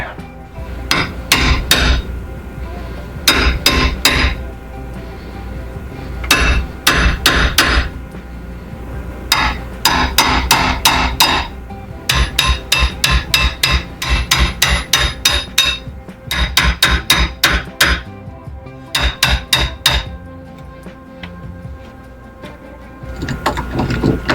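Hammer striking a chisel to cut a lock mortise into an old door in a 200-year-old farmhouse: loud, close, rapid bursts of sharp metallic blows in irregular runs with short pauses between them, sustained throughout.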